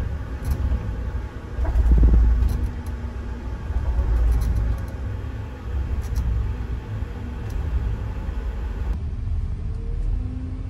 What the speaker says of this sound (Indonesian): Bus melaju di tol kurang lebih selama 45 menit, lalu keluar lagi di gerbang tol 50 di Kabupaten Batubara.